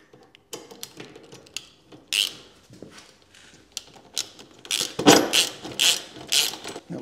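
A ratchet loosens a bolt on a Royal Enfield Classic 350 motorcycle, giving a close run of uneven clicking bursts that grow denser and louder toward the end, with no talk.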